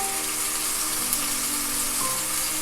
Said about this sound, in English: Saute well, give it a good mix and cover this until they are cooked well.